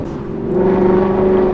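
Ford Mustang with a loud aftermarket exhaust, a close, steady engine drone that swells slightly in volume, with no distinct crackle standing out in the short burst.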